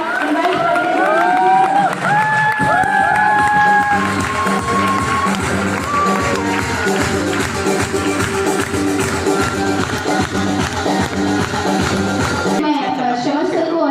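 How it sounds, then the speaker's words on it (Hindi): An audience at a stage event claps and cheers loudly and continuously as guests are invited up, while bright tonal sounds ring out early and a rhythmic pattern runs beneath the crowd noise. "एक बार जोरदार तालियों के साथ इनवाइट करते हैं"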